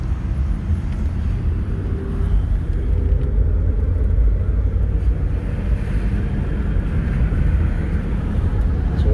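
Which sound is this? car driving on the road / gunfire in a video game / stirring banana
car driving on the road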